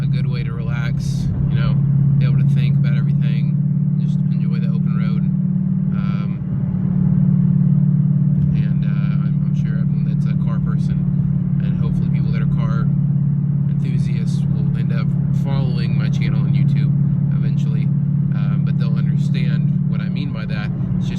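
A car cruising on an open road gives a steady low engine and road rumble throughout, with the speaker talking over it almost continuously.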